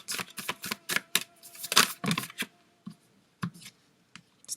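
Tarot cards being laid out one by one on a table, a rapid series of close, crisp slaps and flicks that thin out into a few separate placements, with no talking.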